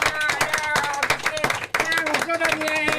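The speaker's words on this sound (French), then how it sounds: "Car c'est le papa de Nestor et on l'applaudit." A television studio audience applauds a guest, the father of Nestor, with steady brisk clapping mixed with voices and overlapping talk throughout.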